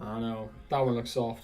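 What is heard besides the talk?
None of the usual background noises is heard.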